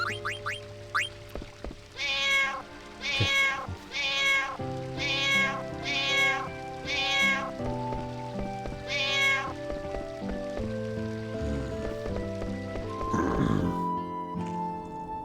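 A cartoon cat meows repeatedly in Final Fantasy IX, the town of Lindblum, with about seven clear, evenly spaced meows over a steady background of game music and ambience.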